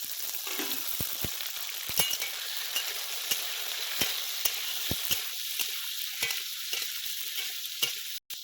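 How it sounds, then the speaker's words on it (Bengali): Diced potatoes, papaya and tomato fry in hot oil with a continuous close sizzle, punctuated by sharp clicks and taps of a utensil stirring the pan. "এবার তেলের মধ্যে দিয়ে দেবো এই আলুগুলো এবার পেঁপে আর টমেটোটাও দিয়ে দিচ্ছি"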